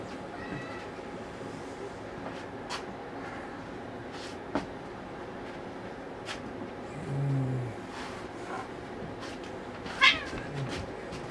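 A cat meows a few times amid a quiet indoor workshop setting, the calls brief and moderately close, the clearest one near the end, over faint background noise and light handling sounds.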